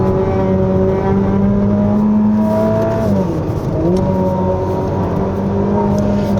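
Ferrari SF90 Stradale in race mode pulling hard on a winding mountain road, its engine note rising steadily and dropping at each early upshift, loud and close with no talking.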